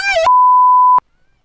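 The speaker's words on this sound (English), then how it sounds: "I'm going to beep it." A single loud, steady censor beep, a pure tone lasting under a second, cuts off speech abruptly to bleep out a spoken name, followed by silence.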